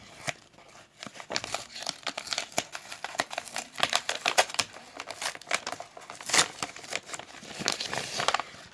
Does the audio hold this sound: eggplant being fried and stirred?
no